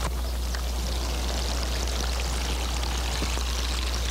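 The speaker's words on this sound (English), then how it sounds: "listening to the water gurgling along in the water trough over our heads" Water gurgles and pours steadily through bamboo troughs overhead along a trail near a Lisu village, a close, continuous splashing stream with no voices.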